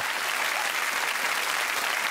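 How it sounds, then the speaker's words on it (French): Steady, dense applause from a studio audience on a French television comedy show, welcoming impressionist Sandrine Alexi; continuous clapping at even loudness throughout with no voices on top. "Je vous demande d'applaudir Sandrine Alexis."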